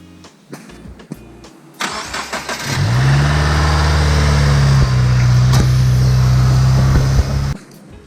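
Subaru WRX engine cranking with a few clicks, then catching and settling into a loud, steady idle close by for several seconds before shutting off.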